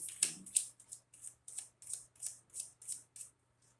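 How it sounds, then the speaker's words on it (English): A deck of tarot-style cards is shuffled by hand in quiet, a series of about ten crisp riffling bursts in a steady rhythm, close and fairly soft. "This is a little awkward to shuffle. They're really good cards."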